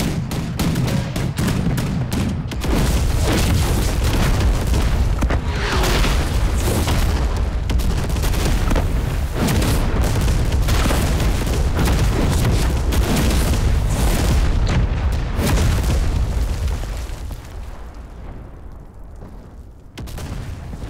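Relentless bombardment in a Korean War television drama, with heavy booming explosions and artillery blasts rolling one after another without pause, loud and dense before easing slightly near the end.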